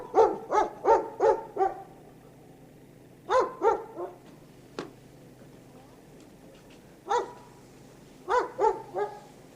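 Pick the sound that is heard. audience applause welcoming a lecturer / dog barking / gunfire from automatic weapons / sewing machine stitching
dog barking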